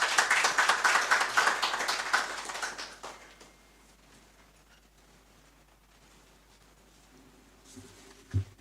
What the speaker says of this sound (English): Sir, we please welcome him with a round of applause.